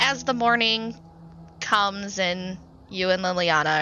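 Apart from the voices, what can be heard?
No distinct noise like a dog, phone or traffic.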